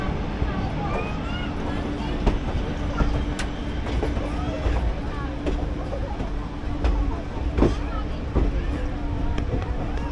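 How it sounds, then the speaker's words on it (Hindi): A crowded passenger train pulls out of Ghaziabad Junction on the Delhi to Saharanpur route, a steady close rumble with rhythmic wheel clicks and faint squeals, heard from inside the carriage. "दो मिनट के होल्ड के बाद गाजियाबाद जंक्शन से भी जो है ट्रेन निकल गई है"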